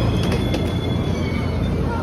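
Nankai Rapi:t limited express train on the line between Kansai Airport and Namba, heard from inside as a loud, steady rumble of running wheels and rail noise with faint rhythmic clatter.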